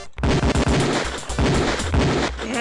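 Pistol and rifle fire at a firing range in Police Quest 4 rings out in a rapid, dense string of loud close shots, with stuttering volleys running almost continuously.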